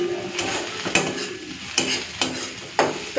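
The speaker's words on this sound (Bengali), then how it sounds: "তো এইদিকে ঢেঁড়স ভাজাটা হয়ে গেছে" Okra fries in a pan with a steady sizzle, broken by several sharp scraping strokes of a spatula stirring it, close and clear with no talk.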